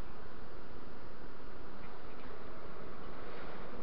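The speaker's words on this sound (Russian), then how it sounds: "гроздь такая пчелок." A dense, continuous buzz of a honeybee swarm close by, steady and loud without pause.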